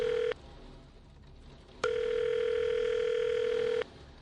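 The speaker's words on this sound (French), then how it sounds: "Son angoisse ne cesse de croître au fil des sonneries restées sans réponse." A telephone ringback tone rings unanswered, one short steady tone ending early, a pause, then a second long unbroken tone of about two seconds, clear and alone with a faint hiss behind it.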